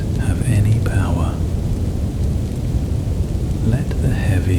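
Heavy rain pours steadily during a storm, a loud continuous wash with low rumbling beneath, while a soft voice murmurs over it in places.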